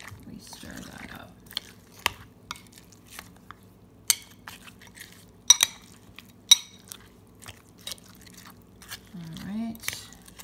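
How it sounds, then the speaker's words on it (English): Cream stirred into Bircher muesli with a big spoon, soft wet squishing and occasional sharp clicks of spoon on bowl, close and sparse, with a voice talking in places. "we're going to get a couple big spoons of this cream, and we stir that up"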